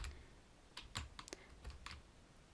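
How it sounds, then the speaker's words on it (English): Faint typing on a computer keyboard while entering R code, a handful of distinct key clicks in an uneven rhythm, heard alone and fairly close. "To create the map, I type in schools"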